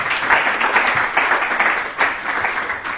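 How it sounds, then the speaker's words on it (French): Audience applause at a marketing industry panel event, a steady patter of many hands clapping in pulsing waves for a few seconds. "on peut les applaudir."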